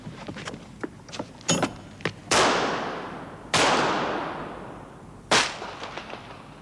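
Gunshots in a radio drama: a few quick light cracks, then three loud, sharp shots spaced a few seconds apart, each with a long echoing decay, with no talk over them.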